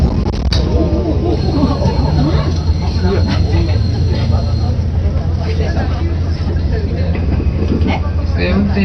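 Interior of the Hanayome Noren sightseeing train halted by an emergency stop before a level crossing, with a steady loud low rumble of the stationary train and babble of passengers talking throughout.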